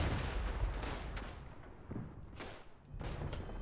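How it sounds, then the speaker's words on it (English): A grenade explodes amid World War I trench combat in the video game Verdun, heard as faint, distant thuds and sharp bangs, several bursts over a low battlefield rumble. "That's a grenade."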